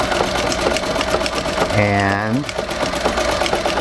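A Singer 201-3 sewing machine set in a treadle stitches a quilt with polyester batting, giving a fast, even mechanical whir and needle patter throughout, close and steady, while a voice speaks briefly over it.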